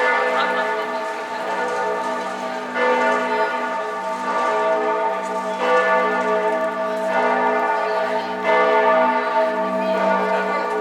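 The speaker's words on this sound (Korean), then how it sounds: "갑자기 울려 퍼진 대성당의 종소리가 내가 피렌체에 와 있음을 실감케 했다" The cathedral bells of Florence ring continuously in repeated overlapping peals, loud and resonant, with faint voices of people nearby beneath them.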